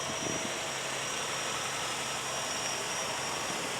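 A 2019 Ford Explorer Sport 4WD sits running after start-up, with a steady, even broadband engine and fan rush that stays constant and fairly loud throughout, no voices heard.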